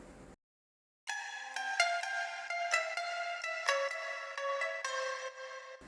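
Bright plucked tumbi notes treated with a compressor and Valhalla Room reverb play a quick melodic line after a short gap, each pluck sharp and ringing into a wash of reverb, with no voices.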